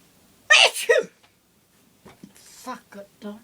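One loud, close sneeze bursts out at once, then a person talks quietly afterward.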